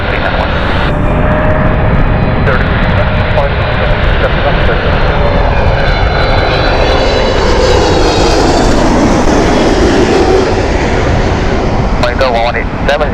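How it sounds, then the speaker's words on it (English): A Malaysia Airlines jet taxiing toward runway 27R at Heathrow Airport, a loud continuous engine roar and whine that rises and shifts steadily, with people talking over it. "Taxiing over to 27 right to take off."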